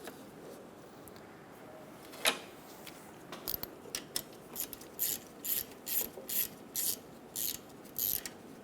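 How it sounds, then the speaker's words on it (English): Quiet, rapid ratchet clicks come in bursts as a bolt is loosened on a 2007-2012 Nissan Altima during AC compressor work, starting with a single clank and then a steady run of short ratcheting strokes. "Loosen the bolt."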